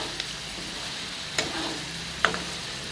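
Goat liver with masala fries on a tawa over high heat, dhaba style, as a low steady sizzle broken by a few sharp spatula clicks and scrapes, close by, no talking.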